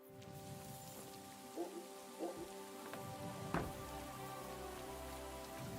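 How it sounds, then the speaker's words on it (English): Rain falls steadily in the video game Kingdom Come: Deliverance 2, a soft constant patter under a humming musical drone, with a few louder drips or thuds scattered through. "Bloody rain."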